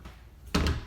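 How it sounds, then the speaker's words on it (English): A coat closet door bumps shut with a single dull thunk, followed by a brief rattle, after a quiet moment of room tone. "Right here is just a little coat closet with 2 doors."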